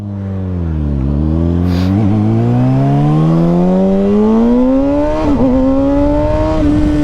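A 2021 Kawasaki Ninja ZX6R with an M4 Street Slayer slip-on exhaust accelerates hard, its loud close engine note climbing steadily through the gears with brief dips at each shift.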